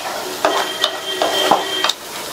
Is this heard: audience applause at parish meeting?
no